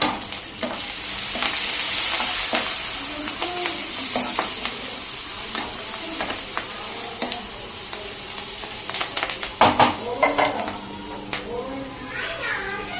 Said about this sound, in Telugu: కరివేపాకు వేస్తున్నాను. అలాగే 1/2 టేబుల్ స్పూన్ పసుపు వేసేసి ఒకసారి కలిపిద్దామండి.